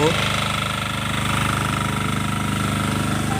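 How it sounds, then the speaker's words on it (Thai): A 12-horsepower key-start diesel water pump engine chugs steadily at low throttle, a loud, even, rhythmic rumble running throughout without pause. "ในขณะที่ใช้เครื่องยนต์นะครับก็คือ กาเร่งค่อนข้างจะน้อยนะครับ ไม่ได้เร่งเต็มที่ครับผม"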